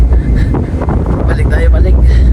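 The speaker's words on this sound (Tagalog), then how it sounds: "Kung naririnig nyo po kasi medyo talaga ang hangin" Strong wind gusts buffet a microphone aboard a ship at sea, a loud, rough rumble that swells and dips throughout, with faint voices underneath.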